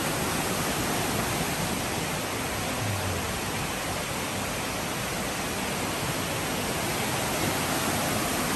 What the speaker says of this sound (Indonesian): Oke, kita bakal nyebrang sungai ini.